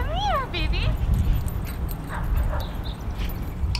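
Pet dogs whimpering and yipping at a reunion with their owner, an Air Force airman back after seven months away, with high whines near the start and excited voices talking throughout.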